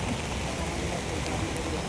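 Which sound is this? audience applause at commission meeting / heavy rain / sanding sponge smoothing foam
heavy rain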